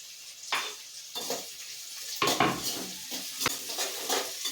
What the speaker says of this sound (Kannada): ಹಸಿಮೆಣ್ಸಿನ್ಕಾಯಿನ ಉದ್ದಿಗೆ ಕಟ್ ಮಾಡಿ ಇಟ್ಕೊಂಡಿದ್ದೀನಿ ಅದನ್ನು ಆ್ಯಡ್ ಮಾಡ್ಕೊತೀನಿ